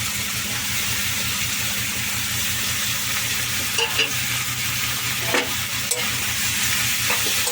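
Drumsticks and onions fry in a pan under a loud, continuous sizzle, with a spoon scraping and stirring now and then toward the end. Close and alone, no speech.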